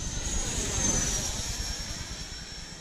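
A Freewing T-45 Goshawk 90mm electric ducted-fan RC jet in flight gives a steady, whining roar with a high tonal edge. The sound holds constant and fairly loud, swelling slightly as the jet passes, with no talk.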